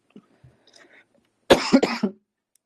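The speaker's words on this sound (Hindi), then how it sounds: "मेरी तबीयत एक्चुअली खराब है तो इस वजह से बार बार मैं खांस रहा हूँ।" An unwell man gives a quick burst of three close, harsh coughs in a quiet room, after a few faint soft sounds.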